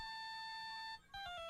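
A cell phone ringtone in the video game Phoenix Wright: Justice For All plays alone as a bright, steady electronic melody of sustained tones, briefly cutting out before resuming with a few quicker repeated notes.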